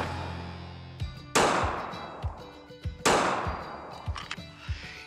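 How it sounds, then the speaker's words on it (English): Two sharp, loud gunshots from a Walther PPS M2 pistol, each followed by a ringing decay, with smaller clanks and thuds between them at an outdoor range. "shooting tight groups with this Walther PPS M2 is a lot of fun"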